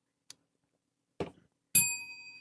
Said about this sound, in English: All right, John, I know you were ringing your bell.